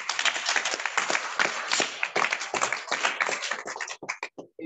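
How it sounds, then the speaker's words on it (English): A crowd gives a round of applause at a service celebration honouring Dr. Gloria Udoh, with many hands clapping densely and steadily before the sound thins into a few scattered final claps. "This round of applause."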